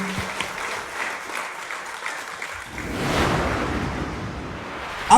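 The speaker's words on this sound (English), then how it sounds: "Round of applause, guys." An audience at a live talent show quarter final in Wales claps steadily, a sustained wash of applause that swells slightly toward the end, with no talk over it.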